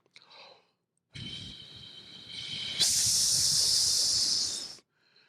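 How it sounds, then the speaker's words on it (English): Steady breathy hiss of air blown through the mouth over two tongue positions, soft at first, then shifting abruptly to a brighter, sharper hiss, with no voice. "if I stop vocalizing and I just blow wind in those two tongue positions"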